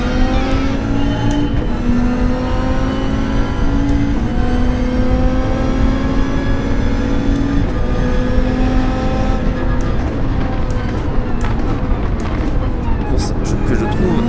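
Dodge Viper SRT GT3-R 2015 race car engine in Gran Turismo 7 at Daytona, Florida, droning loudly and steadily with rising and falling rev harmonics throughout, talk faintly underneath.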